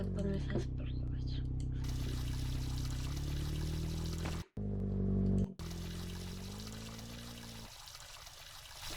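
A shower runs inside a building in New York, a steady hissing rush of water that fills the clip. The flow cuts out briefly twice near the middle before resuming.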